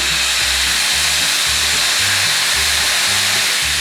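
Shredded cabbage with dried shrimp and mirin stir-fries in a pan, giving a loud, constant sizzling hiss over a soft, repeated low thumping.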